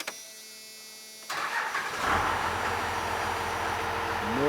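A 12-valve Cummins diesel engine with new governor springs cranks briefly, then fires and settles into a loud, steady idle that builds slightly toward the end, heard up close with no talking.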